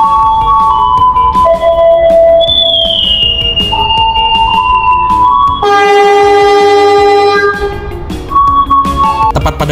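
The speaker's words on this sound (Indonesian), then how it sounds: "Lokomotifnya menggunakan CC 201-7804 di Poinduk, Yogyakarta, teman-teman" Logawa passenger train hauled by locomotive CC 201-7804 at the Yogyakarta depot, sounding loud, sustained multi-tone horn blasts that shift pitch, with a long chord-like blast near the end, steady and close throughout.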